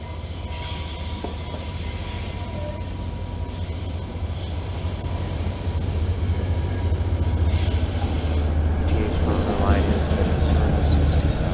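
A UTA FrontRunner commuter train on its Salt Lake to Provo route rumbles steadily nearby, its low, continuous drone swelling louder toward the end.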